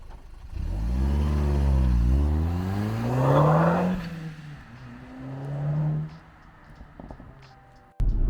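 A 2000s Audi S3 8P hot hatchback pulls away with its engine revving up through the gears, the pitch climbing and dropping at each shift, then settling to a steadier drone, close and clear.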